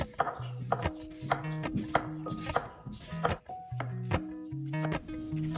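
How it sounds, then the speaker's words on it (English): A kitchen knife chops home-picked cherry tomatoes on a cutting board, each stroke landing as a crisp, close knock in steady bursts of quick repeated cuts with brief pauses between them. "these are the cherry tomatoes that we picked, and I'm gonna just go ahead and chop these up"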